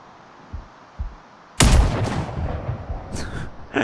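Rifle gunfire in a first-person shooter game: a burst of shots that becomes a loud, sustained roar of fire with a few softer thumps before it and sharper cracks near the end.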